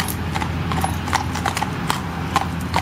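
Horse hooves clip-clop in a steady, irregular rhythm on a hard surface, close and loud over a constant background rumble, with no talking.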